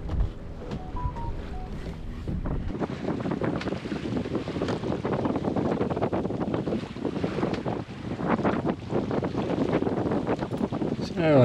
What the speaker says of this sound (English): Been tacking my way south against tide.